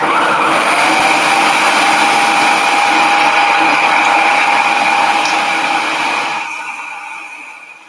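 A food processor whizzes a crumble mixture with a loud, steady high-pitched whir that runs unbroken for several seconds, then winds down and fades out.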